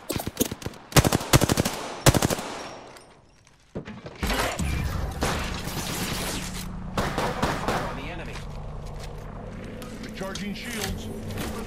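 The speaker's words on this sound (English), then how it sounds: "The enemies are shooting at me." Rapid automatic gunfire in the battle-royale shooter Apex Legends, with loud, dense bursts and sharp single shots early on, then a steady rattling barrage, while a voice talks over the fighting.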